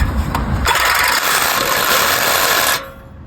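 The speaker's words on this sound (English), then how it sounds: "One thing we know for sure is this Sawzall blade is very dull." A Sawzall reciprocating saw fitted with a dull blade cuts through the exhaust pipe at the muffler of a 2008 Chevy Avalanche, a loud harsh rasping buzz that starts abruptly, runs steadily for a couple of seconds and then stops.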